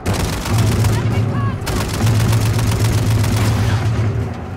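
During a Call of Duty: Modern Warfare II match, an RPG explosion mixes with rapid gunfire. Dense, close bursts of shots clatter over a low engine-like hum, with a brief lull midway.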